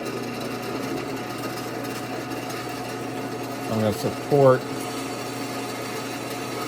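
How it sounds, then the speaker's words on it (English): A drill press bores through a brake rotor with a Spectral brand bit, a steady mechanical drone with a brief rising whine and grinding bursts near the end, while someone talks over it. "So I'm gonna flip on the drill press here"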